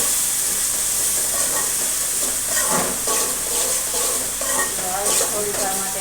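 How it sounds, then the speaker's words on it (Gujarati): Tomato, chili and garlic paste frying in hot oil for Gujarati dal dhokli, a loud continuous hiss and sizzle with spoon strokes stirring through it, close and steady throughout, no speech. "થોડી વાર માટે હલાવતા રહીશું."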